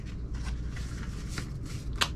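A sheet of paper is handled up close, producing soft rustling and crinkling in short bursts with a sharper crackle near the end, quiet and without talk.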